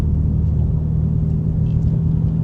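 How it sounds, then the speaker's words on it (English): A steady, deep engine rumble from a Chevrolet Corvette Z06 idling or cruising, low and throaty with a constant drone and no voices. "The exhaust tone on that car is"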